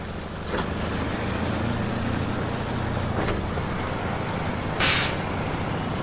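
Pacific P16V truck hauling trailers in Snowrunner, a steady low engine drone running throughout with a sharp hiss of air brake release near the end.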